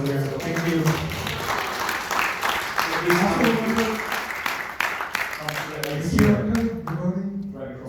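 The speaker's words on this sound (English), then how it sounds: "Give a round of applause for our team for this live show there." After a film screening and Q&A, an audience applauds the team with sustained clapping throughout, while voices and cheers rise over it and the sound fades toward the end.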